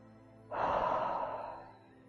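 A single long breath during a pelvic floor breathing exercise, a soft airy exhale swelling and slowly fading, close and quiet with no talk.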